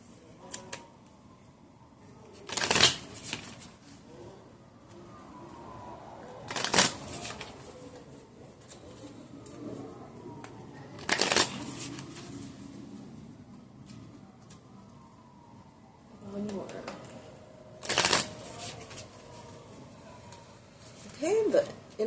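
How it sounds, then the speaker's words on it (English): A tarot deck is shuffled five times in distinct bursts of riffling cards spaced several seconds apart, with a quiet room and soft handling noise between the shuffles. "I'm going to shuffle 5 times, and then I'm going to draw 3 cards"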